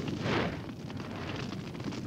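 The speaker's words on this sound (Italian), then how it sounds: "Siamo circondati dalle fiamme." Flames roaring around characters in the Yattaman cartoon, a dense continuous whooshing rumble with a louder surge near the start.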